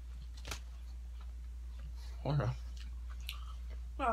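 Someone bites into a big pickle with a crunch near the middle, followed by short bursts of chewing, all close to the mic over a low steady hum, with speech nearby.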